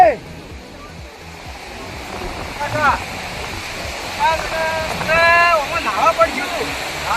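Sea waves wash in a continuous, close rush of water, with several people talking over the noise.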